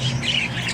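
Pet parakeets in a cage giving harsh, rapid squawks and chatter, close and lively.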